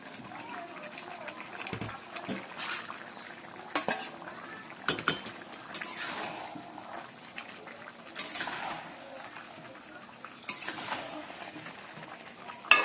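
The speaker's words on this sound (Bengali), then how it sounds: "ভাজা আলুগুলো মাংসের সাথে দিয়ে কষে নেব।" Fried potatoes are stirred into chicken cooking in a pan, made without ginger or garlic: a spoon scrapes and clatters against the metal in bursts over a faint, low sizzle, fairly close.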